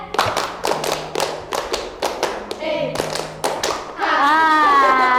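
Children in a guidance-counselling group game clap out rhythm patterns in a classroom, sharp hand taps in short bursts of one, two and three, followed by a rising burst of excited chatter and a sustained voice at the end.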